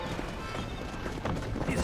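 A horse galloping in the video game Red Dead Redemption, with steady hoofbeats running under continuous talk and background noise.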